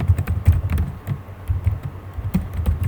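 Rapid, irregular clicks and taps from fingers typing on a computer keyboard while entering code, close and fairly loud, coming in short bursts with brief pauses.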